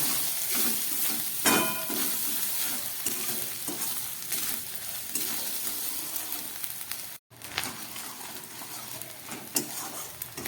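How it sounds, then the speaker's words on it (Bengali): Grated coconut frying in a pan for a vegetarian banana-flower curry: a steady crackling sizzle with intermittent scraping stirs and clinks, close and continuous, with one brief dropout near the end. "নারকেলটা দেওয়ার পর আমি আরেকটু ভেজে নেব।"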